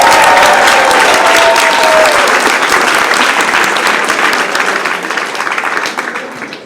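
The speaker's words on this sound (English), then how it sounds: "make a lot of noise for Sachin Gokhale." Loud audience applause and cheering at a comedy club in Manhattan, a dense burst of clapping that swells at once and slowly tapers off over several seconds.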